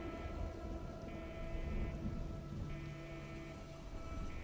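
Storm ambience in a video game, with steady rain hiss and a low rumble of thunder running throughout at an even level, with no voices.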